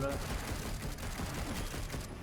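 Standard gun firing in the video game Darksiders Genesis, a dense continuous burst of rapid shots over game audio.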